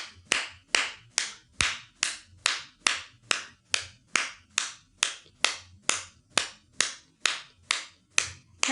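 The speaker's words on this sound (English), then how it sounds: "We'll begin on my clap." A yoga instructor claps her hands steadily in a hot power vinyasa class, about two sharp claps per second repeating evenly and close for the whole stretch with no talking.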